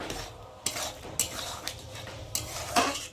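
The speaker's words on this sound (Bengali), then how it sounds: "দিয়ে একটু ভালো করে নেড়ে চেড়ে নেব" Pumpkin, potato and prawn curry is stirred in a pot after sugar is added, with several distinct scraping and clinking strokes of a spoon against metal over a faint sizzle, close by.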